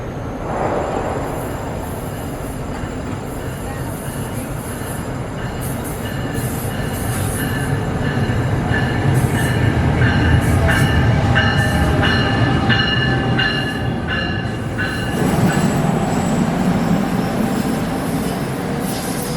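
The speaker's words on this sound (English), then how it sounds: "Comes a very rare freight train on the Northeast Corridor" A rare freight train rolls past on the Northeast Corridor in New Jersey, a steady loud rumble of rail cars with rhythmic wheel clatter and some squealing that swells and holds close for the whole stretch, with no talk.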